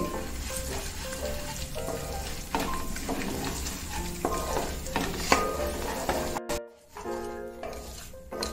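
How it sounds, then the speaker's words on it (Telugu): Chana dal, urad dal, mustard seeds and cumin frying in coconut oil for coconut rice, giving a steady close sizzle with stirring scrapes and occasional spatters, briefly dropping out near the end before resuming. "శనగపప్పు మినప్పప్పు ఆవాలు జీలకర్ర వేసుకుని ఒకసారి ఫ్రై చేసుకోవాలి"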